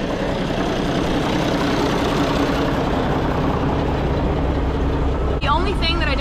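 An IH 1066 tractor engine drones steadily and loudly while mowing a field, a continuous low rumble with a brief shift near the end.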